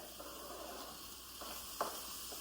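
Chicken and tomatoes cook in a pan with a soft, steady sizzle, quiet and close, broken by a couple of faint stirring clicks.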